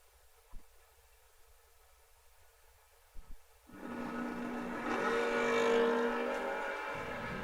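Drag race cars, a Mopar and an Oldsmobile, at a memorial race: quiet with a few thumps, then a loud engine roar rises suddenly and holds at a distance, swelling before easing slightly.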